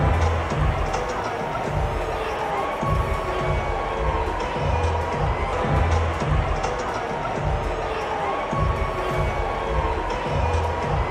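A huge World Series stadium crowd roars continuously in a dense, sustained wall of jeering boos, loud and unbroken throughout.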